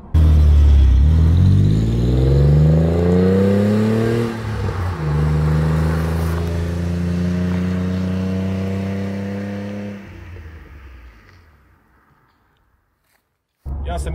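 A Ford Mondeo ST220 engine revs hard on a road test, its rising harmonics sweeping upward twice through gear changes before a long steady pull that fades to near silence, then briefly returns at the end.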